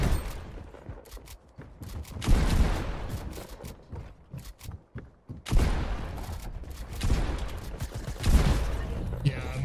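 Rapid bursts of gunfire from a Fortnite match ring out in clustered volleys, loud and dense at the start and again in the second half, with brief quieter gaps between the firefights.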